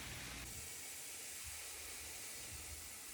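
Chicken feet frying in hot oil give a steady, dense sizzling hiss that is close and continuous, with no voices.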